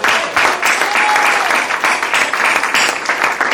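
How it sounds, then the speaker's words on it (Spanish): A church congregation applauds, with steady, dense clapping that continues loudly through the whole moment. "¿Por qué no le aplaudimos?"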